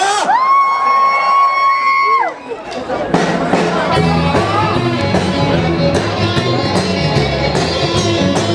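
A rock concert crowd at a metro culture festival shouts and cheers loudly and continuously, following a brief sustained tonal sound at the start, with chatter mixed into the roar.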